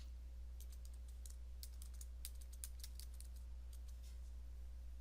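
Quiet computer keyboard typing as a password is entered, a run of light, irregular key clicks over a steady low electrical hum, with no talking.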